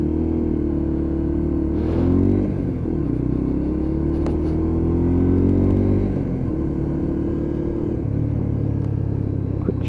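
A Lexmoto LXR motorcycle engine drones loudly while riding, its pitch rising and falling through gear changes with a steady close rumble and brief revving swells.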